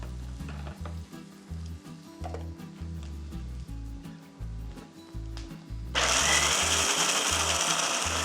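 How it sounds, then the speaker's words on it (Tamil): Gram flour fries in oil for a capsicum curry gravy. Rhythmic low thudding comes first, then a loud, steady sizzle takes over near the end, with no talking. "இந்த எண்ணெயிலேயே அந்த கடலை மாவும் வந்து நல்லா ஃப்ரை ஆகிடும்"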